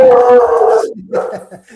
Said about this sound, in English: and our dog